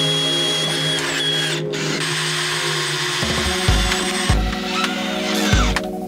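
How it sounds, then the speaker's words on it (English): A power drill drives a screw into the soft aluminum bed of a Kingstar truck camper garage, its motor whirring steadily and then bogging in several heavy low pulses near the end as the screw bites, with no talking. "don't put too much torque on your drill"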